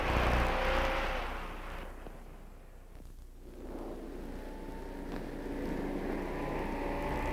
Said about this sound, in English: With all the tremendous surging power of that 327 engine, the Impala is out to an instant lead.